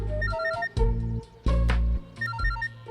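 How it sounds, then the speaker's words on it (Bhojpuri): An incoming call sets off a loud, nearby phone ringtone in a Bhojpuri film scene. It plays as a bright melodic electronic tune in repeated phrases with short pauses between them. "बाबूजी के फोन आ गए"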